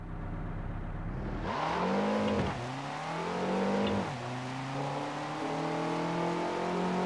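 A combat racing car power sliding in Jak X: Combat Racing: the engine surges loudly, its pitch sweeps and dips twice as the car slides through turns, then it settles into a steady high whine.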